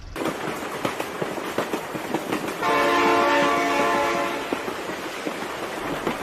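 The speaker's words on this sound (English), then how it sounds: "Oh my god, train!" A train horn blasts in the BeamNG.drive driving game, a loud sustained multi-tone blare rising over rumbling train and crash noise, lasting a few seconds before fading.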